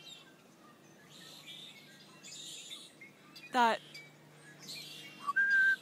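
Starlings chatter and whistle in a tree, imitating red-winged blackbird calls, with a sharp buzzy trill and a clear rising whistle among softer chirps; a voice briefly speaks.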